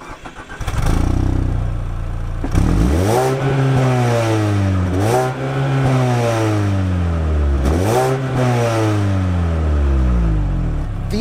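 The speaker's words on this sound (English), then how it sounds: "but when you rev it, it sounds really good." A Mazda Skyactiv-G four-cylinder engine revs hard three times, each sweep rising quickly and then falling back. It is loud and close, with steady engine noise between the blips and no talking.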